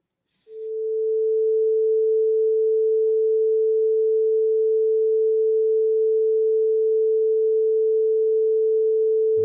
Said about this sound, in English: 10 hours of a 440 Hertz sine wave.